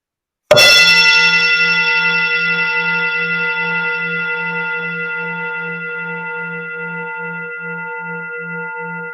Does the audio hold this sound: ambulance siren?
no